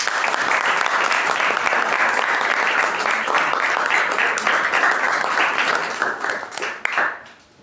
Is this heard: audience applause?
yes